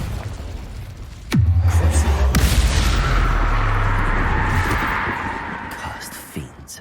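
A fiery Confringo spell explosion in Hogwarts Legacy, a sudden loud boom followed by a long rumbling roar that slowly fades, with a second burst shortly after.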